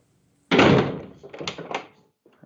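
The door of a heavily insulated air compressor room swings shut with one loud thud, followed by a few softer rattling knocks as it settles, then near silence.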